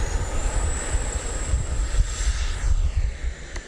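RC jet aircraft with its afterburner lit, passing in flight: a loud, steady turbine roar with a high, drawn-out whine, buffeted by wind noise, and no voices over it.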